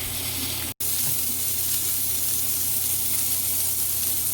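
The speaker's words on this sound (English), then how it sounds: "Got a piece of steak over here cooking." Steak cooking in a pan gives a steady, close sizzle with a continuous hiss and faint popping, interrupted by one brief silent cut near the start.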